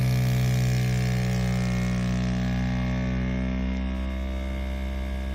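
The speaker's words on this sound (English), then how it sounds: "the cup is getting vacuumated." An ST 1520 3D mini vacuum sublimation heat press pumps air out of a cup in its mold, giving a steady, close electric motor hum with a buzzing tone that runs evenly and fades only slightly, alone without speech.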